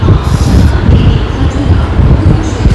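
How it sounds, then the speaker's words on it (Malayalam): A loud train rumbles close by inside Delhi railway station, its heavy low drone steady with faint metallic squeals above, echoing as in an enclosed station. "അപ്പോൾ ഇതാണ് ഡൽഹി റെയിൽവേ സ്റ്റേഷൻ്റെ ഉള്ളിലത്തെ അവസ്ഥ"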